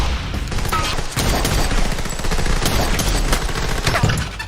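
Rapid bursts of automatic gunfire from a film scene starring Keanu Reeves, loud and dense, crackling continuously with short gaps between volleys.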